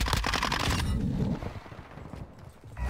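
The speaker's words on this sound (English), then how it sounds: "I am shooting bullets into your fucking face!" Gunfire in a shooting video game: a rapid burst of automatic fire, loud and close for about a second, then fading into a lower rumble before another shot near the end.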